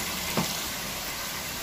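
Water being strained off partly cooked rice in a home kitchen, a steady close hiss of draining liquid with a slight splash near the start, no talking.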